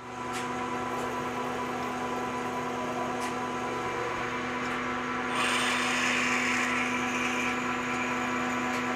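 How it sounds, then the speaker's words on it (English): A steady mechanical whir of a machine tool drilling and reaming an 8 mm center hole in a metal part runs continuously with faint clicks, shifting to a brighter, slightly louder grinding tone partway through. "I just need to drill and ream the center of this for eight millimeters"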